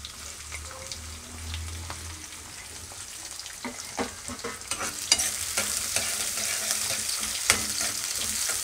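Cumin seeds and onions fry in hot oil in a home kitchen pan, a steady crackling sizzle with scattered sharp pops and stirring clatters that grows busier and louder partway through.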